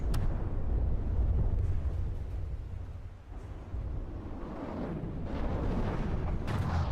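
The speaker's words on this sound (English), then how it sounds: "The AI guns of the crossbows are doing a pretty good job at shooting these down." AI-controlled crossbow guns fire in From the Depths, a dense, continuous rumble of booms and blasts that rolls on without pause and sounds close and heavy.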